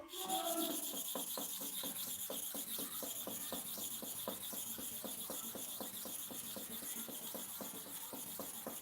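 Hair clipper blades are sharpened with a steady series of rapid, even rasping strokes, close and fairly quiet, repeating in a regular rhythm throughout.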